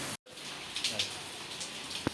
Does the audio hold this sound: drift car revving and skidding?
no